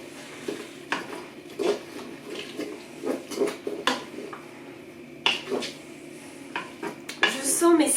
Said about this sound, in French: Hop, on va mélanger tout ça et ensuite on va rajouter le riz et de l'eau.